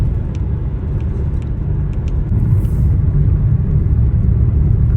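A 2013 Toyota Allion cruising along a highway, a loud steady low engine and road rumble filling the whole stretch, with tire noise rising slightly partway through.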